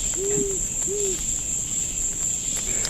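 Crickets chirp in a virtual game world at night, a steady high-pitched trill running throughout, with two soft, low owl-like hoots early on over a quiet ambient bed.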